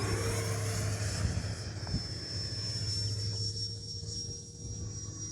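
A Freewing F-22 Raptor 70mm electric ducted-fan RC jet flies past at a steady distance, its whine holding a constant high tone over a low droning hum, with outdoor wind noise throughout.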